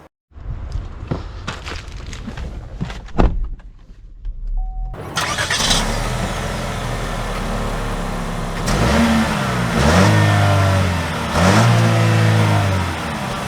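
A 2024 GMC Terrain AT4 SUV with a few quiet clicks and thumps before the engine catches, settles into a steady idle, then rises through repeated revving surges as it pulls away, close and clear.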